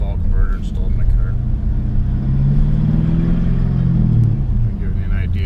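Camaro SS with a Flowmaster exhaust, a 3200 Circle D stall converter and 3.91 rear gears rumbles steadily through heavy traffic, its deep exhaust note swelling midway, with brief voices at the start and end.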